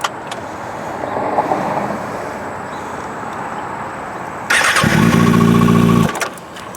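A motorcycle engine idles low, then revs up loudly for about a second and a half in first gear before it abruptly cuts out and stalls, close by.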